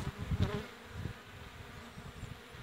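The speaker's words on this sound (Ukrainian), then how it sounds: "пчолки обльотуються" Honeybees in flight around a hive on an early spring evening, a low, soft buzzing drone that swells in a few short pulses early on and then carries on faintly and steadily.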